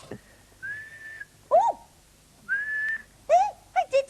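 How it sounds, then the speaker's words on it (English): A person whistles several tunes in turn: a steady held tone, then a rising-falling swoop, another sustained tone, and a few quick descending chirps at the end, fairly close and clear with no talking. "Hey, I did it. I did it. I can whistle."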